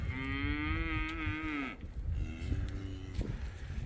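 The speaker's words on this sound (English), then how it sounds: "Cows are very social animals." Cattle lowing in a farm setting, a long sustained moo with a wavering pitch followed by a shorter, softer second call, close and clear over low outdoor rumble.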